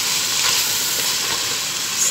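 Fried rice stirred and tossed in a hot pan, a steady close sizzle with soft scraping under it, continuous and alone with no talk.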